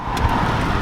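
A BMW with a manual stick shift drives along with a steady, moderately loud engine and road hum inside the cabin, brief and continuous without voices.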